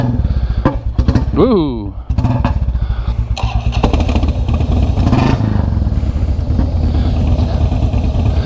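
Royal Enfield Classic 350 motorcycle engine cranking, starting and settling into a thumping idle with revs rising and falling, close and loud, with a brief spoken exclamation.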